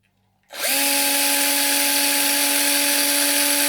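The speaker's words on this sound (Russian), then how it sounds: "Берем шуруповерт." Cordless screwdriver drill starts up after brief quiet and runs steadily at a constant high pitch for several seconds, loud and close, with no talking.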